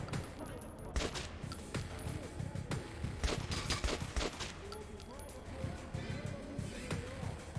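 Rapid AK rifle fire from a player in the video game Metro 2033 Redux, dense bursts of shots crackling near and loud across the whole stretch, with game ambience and occasional voice sounds mixed underneath.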